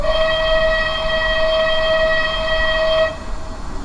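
A Hornby model steam locomotive whistle sounds in one steady, shrill tone for about three seconds, then stops, leaving a faint mechanical hum.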